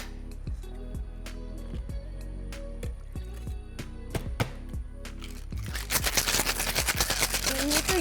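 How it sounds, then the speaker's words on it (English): A cocktail shaker packed with lots of ice is shaken, first as sparse knocking rattles over a steady hum, then building into a loud, dense, continuous rattle of ice against metal toward the end. "You need to hear the sound of the cocktail shaker."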